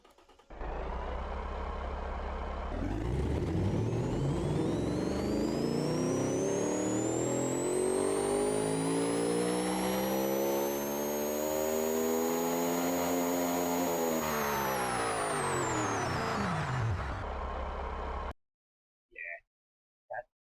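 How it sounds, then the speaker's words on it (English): A car engine from the Automation video game revs up steadily, its harmonics rising into a loud, sustained high-pitched whine for about fifteen seconds, then cuts off abruptly into near silence with a couple of brief noises. "That car sounds very nice."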